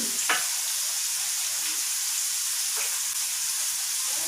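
Spices for beef keema fry and sizzle steadily in a pan, with a constant broad hiss and a few brief scraping stirs of the spoon; nearby and continuous, with no talking.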